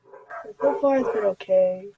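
Dogs bark indoors, short yappy barks mixed in and overlapping with someone talking nearby.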